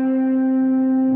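A single sustained guitar note, C, rings steadily and alone at moderate loudness for about a second.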